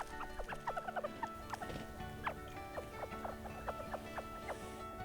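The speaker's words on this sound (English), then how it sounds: "you'll be surrounded by 200 quail. You can feed them a treat and listen to them communicate." A flock of around 200 quail at a walk-in quail encounter chirps and calls continuously, with many short overlapping chirps and whistles rising from a steady, busy background of soft fluttering and scuffling.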